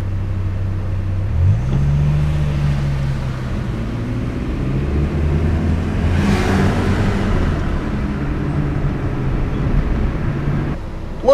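A Dodge Viper's engine drones and revs up and down in shifting low tones, loud and close, building to a surge of rushing noise midway before settling back to a steady rumble.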